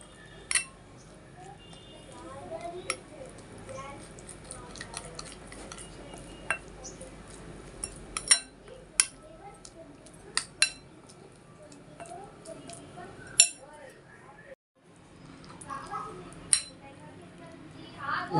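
Metal spoon clinking against a bowl while lemon juice and salt are mixed into yogurt, with scattered light clinks and scrapes over a soft background, fairly close.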